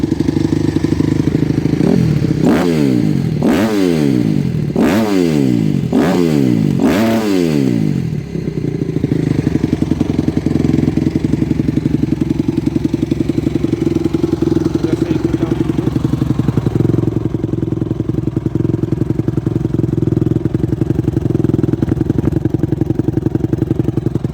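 Honda CRF 250 motorcycle engine blipped in about five sharp revs that rise and fall, then settling into a loud, steady, slightly lumpy idle close by for the rest.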